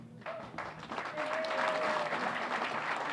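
Crowd applause at the Revere Chamber of Commerce awards ceremony swells after a quiet start and holds as a steady, full clapping through the rest.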